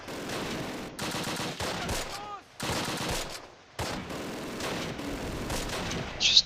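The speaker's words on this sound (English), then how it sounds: "I'm gonna have to fire off a few mortar shells here" Mortar shells and gunfire in the WWII strategy game Close Combat: Last Stand Arnhem, a run of sharp, loud bursts and booms in quick irregular succession with brief pauses between volleys.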